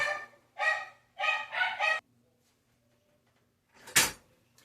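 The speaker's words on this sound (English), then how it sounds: "A cat walked by in front of the house and my dog's just straight flipped out" Dogs at a house bark in a frenzy at a passing cat, with several loud, close barks in quick succession, a pause, then one more sharp bark.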